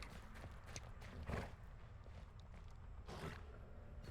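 Horse hooves clip-clop in a video game, a few irregular muffled thuds with two heavier bursts, set against a steady low background hum.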